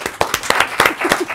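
Scattered applause from a studio audience at a French debate show, with a handful of sharp, uneven claps that start and stop irregularly rather than swelling into a full ovation.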